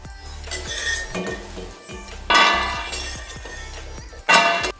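Roasted fox nuts (makhana) rattle and scrape as they are scooped out of a pan, with a few louder bursts of dry clattering and metallic clinks against the pan, close and without talk.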